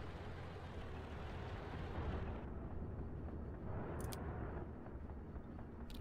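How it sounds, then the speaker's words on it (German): A blast from an explosion in the tank video game Armored Warfare, a loud, sustained roaring rumble that fills the whole clip with no pause and fades slightly toward the end. "Schöne, nette Explosion."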